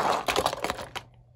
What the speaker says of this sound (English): crashes to the side, but Bulldozer on his nose, but still ahead